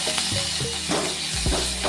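Mustard seeds, cumin, dried chillies and curry leaves tempering in a spoonful of hot oil in a pan on the stove, a dense, loud, steady sizzle with crackles throughout.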